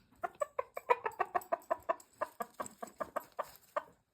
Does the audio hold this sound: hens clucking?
yes